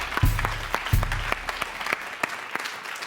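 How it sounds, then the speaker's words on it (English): An audience applauds for about three seconds, a dense patter of claps with a few louder hand strikes standing out near the start before it thins slightly. "Give them a big round of applause."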